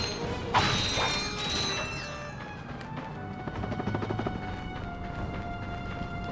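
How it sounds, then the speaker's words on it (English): A bolt crank being turned in the video game Ratchet & Clank: a sharp metallic clank at the start, then a steady run of ratcheting mechanical clicks and whirring under game music, fairly loud and close. "Alright, another bolt crank."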